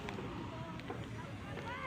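Strong afternoon wind buffets the microphone in a continuous low rumble, with faint voices murmuring underneath.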